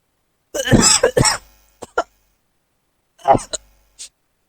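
A burst of coughing with a short rough cough after it, then a pause and a few more coughs, close and fairly loud.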